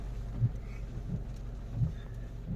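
Heavy rain pours steadily during a drive along muddy village roads in a Tata Punch, with low rumbles of thunder swelling a few times beneath the constant downpour.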